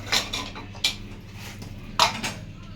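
A pressure cooker holding camel meat is opened after its steam has gone down, producing a few close metallic clicks and clanks of the lid and pot spread over a few seconds, with no voices.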